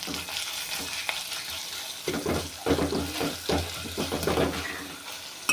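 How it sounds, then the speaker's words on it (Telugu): Ginger garlic paste goes into a hot pan for a Telangana-style okra tamarind stew and is stirred in, giving a bursting sizzle with repeated scraping strokes of a spoon, loud and close, with no talking. "అల్లం వెల్లుల్లి పేస్ట్ వేసి బాగా కలుపుకోవాలి."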